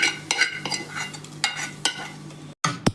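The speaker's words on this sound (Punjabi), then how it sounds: "ਇਹ ਸਾਰਾ ਤੜਕਾ ਜਿਹੜਾ ਆਪਾਂ ਦਾਲ 'ਚ ਪਲਟਾ ਦੇਵਾਂਗੇ" Hot spice tempering tipped into a pot of moong and masoor dal, giving a bright sizzle with clinks of a metal pan and spoon, a brief drop-out, then a sharp hissing burst near the end.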